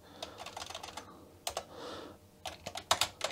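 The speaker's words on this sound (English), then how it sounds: "I added the keyboard now, and looks to be working just fine." Keys clack in quick, uneven bursts on the keyboard of a Philips VG 8235 MSX2 home computer, close and fairly quiet, with brief pauses between runs of typing.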